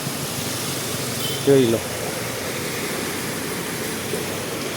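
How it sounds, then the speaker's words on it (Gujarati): Heavy rain pours over a residential society in Naroda, Ahmedabad, where the streets are waterlogged; a steady, dense hiss of falling water fills the whole stretch, with someone briefly speaking over it. "ખૂબ સરસ મજાનો વરસાદ વરસી રહ્યો છે અમદાવાદની અંદર"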